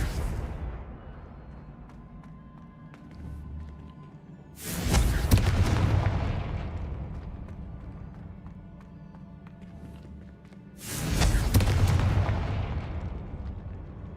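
Two Confringo spell blasts in Hogwarts Legacy boom out about six seconds apart, each a sudden loud explosion with a long rumbling decay over a quiet ambient background.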